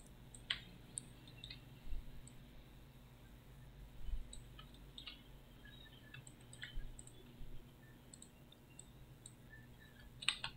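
A computer mouse clicks faintly and sporadically while 3D modeling in 3ds Max, producing scattered light clicks over a low, steady background hum.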